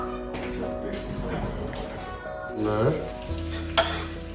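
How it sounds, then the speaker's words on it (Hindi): Onions and green chilies fry in a pan with a steady sizzle and stirring, a louder burst of spatter midway, and a voice talking faintly underneath. "फ्राई होंगे प्याज और हरी मिर्च।"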